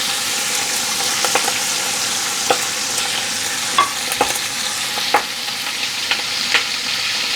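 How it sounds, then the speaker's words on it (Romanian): Chopped onion sizzling in a pan with smoked meat, a steady bright frying hiss broken by several sharp stirring scrapes and pops, close and loud. "eu pun acum și ceapa."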